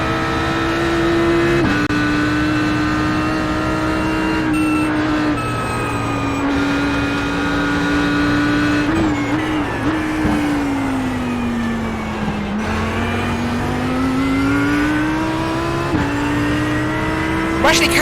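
Audi GT3 race car engine in the iRacing sim at Oulton Park, loud and continuous with pitch rising and falling through gear changes and corners, under intermittent commentary.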